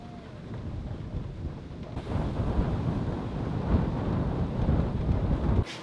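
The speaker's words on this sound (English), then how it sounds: "Look how windy it is." Strong wind buffets the microphone at a tidal island, a loud, rough rumbling roar that swells after the first two seconds and stays gusty and close throughout.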